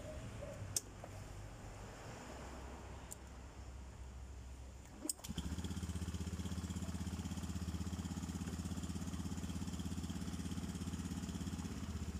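A Honda BeAT Fi scooter engine starts up about five seconds in after some quieter handling, then idles steadily and close by, with a constant low hum to the end.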